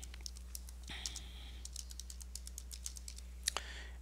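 Someone types a username for a Battle.net login on a computer keyboard: close, light irregular key clicks in short bursts, with a louder double tap near the end over a low steady hum.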